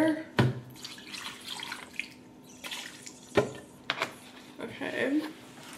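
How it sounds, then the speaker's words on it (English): Water is poured into a blender cup of frosty lemonade drink with ice, a close splashing trickle broken by sharp clunks, as a voice talks softly in between. "I'm gonna add a little bit of water."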